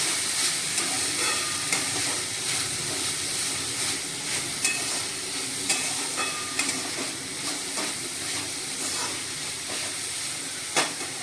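Spring onion greens and coarsely crushed peanuts sizzle in a hot pan while being stirred, a steady crackling hiss with scattered scraping clicks of the spoon throughout.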